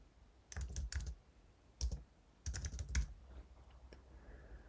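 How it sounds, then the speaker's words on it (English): Keys on a computer keyboard clatter in quick bursts of typing, several short runs separated by pauses, soft and close in a quiet room with no talk. "So here I'm just going to type some text"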